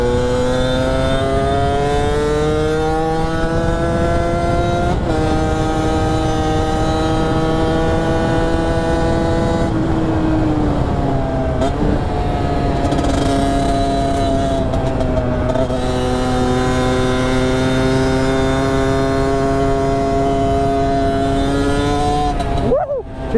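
Sherco motorcycle engine revving hard and accelerating for a wheelie, loud and close, with rising and falling pitch sweeps as it climbs through gears over a steady roar.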